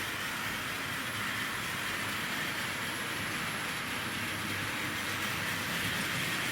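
A Wrenn model locomotive with a large Ringfield motor runs steadily on a Tri-ang layout, giving a continuous close whirring rumble with a broad hiss that holds level throughout, with no talk.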